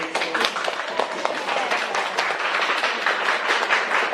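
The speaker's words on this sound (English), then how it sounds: "please let us all welcome today's speakers, Ynell, Lumantao, and Danahan, with a big round of applause" A room full of people at a talk claps steadily to welcome the speakers, a dense crackle of applause holding at an even level from start to finish.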